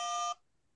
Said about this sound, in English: it starts beeping. So as soon as that starts beeping,